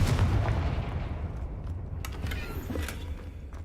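A Confringo fire spell cast in Hogwarts Legacy gives a dense, rumbling burst heavy in the low end, loudest at the start and then sustaining as a rough, noisy roar with a few sharp crackles.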